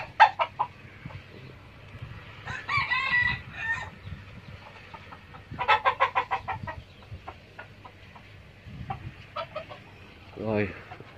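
Chickens, including chicks and American, Cuban and game fowl, cluck and call in bursts on a rural plot in Bàu Năng commune, Dương Minh Châu, Tây Ninh, with a short crow near the end over quiet background.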